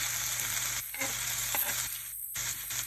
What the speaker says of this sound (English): And you saute it for another minute or so.